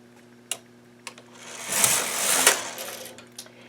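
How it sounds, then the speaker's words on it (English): A Brother knitting machine carriage is drawn across all the needles to knit one row. A few light clicks lead into a close rattling swish of about a second and a half, then more faint clicks, with no talking. "Now I'm going to knit one row over all the needles"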